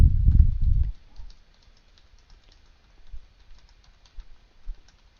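Light, rapid clicks of a computer keyboard as a new folder name is typed, faint and steady after a brief low thump of handling at the start.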